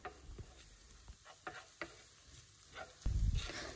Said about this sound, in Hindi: 30 सेकेंड तक इसको स्टिर करेंगे।